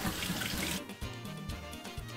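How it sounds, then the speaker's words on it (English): Running tap water streams steadily over a ball of freshly made homemade butter being rinsed in a kitchen sink, a continuous splashing wash with the flow shifting slightly partway through. "We are going to unwrap the butter ball and going to rinse it straight under the water."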